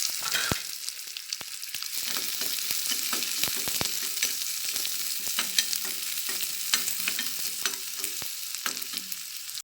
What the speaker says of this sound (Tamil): இப்போ பொடியாக நறுக்கிய பல்லாரியும் வறுத்துக்கிடலாம்.